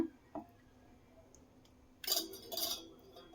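Cut mango pieces go into a mixer jar for homemade mango ice cream, a few faint clinks and taps early, then a brief cluster of brighter, louder clattering and rustling near the end.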